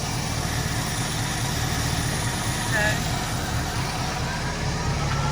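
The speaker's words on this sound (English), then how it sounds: "Notice the RPM of the engine has dropped." A 1973 Mustang convertible's carbureted engine idles slow and low with the choke plate wide open, a steady close rumble throughout, while someone briefly speaks over it.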